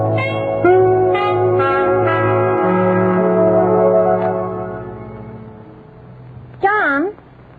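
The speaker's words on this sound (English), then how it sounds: "let's ring Mr. Edwards' bell first." A doorbell rings with a sustained chiming tone that slowly fades, followed by a brief wavering electronic tone near the end.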